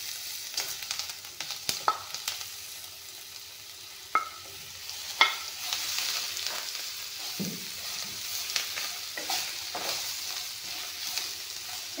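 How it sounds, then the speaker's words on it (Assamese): Boiled bitter gourd frying in a pan with spice powder, a soft steady sizzle broken by scattered stirring scrapes and clinks, fairly quiet and close, no talking. "এতিয়া বইল কৰি লোৱা ভাতকেৰেলাখিনি দি দিম।"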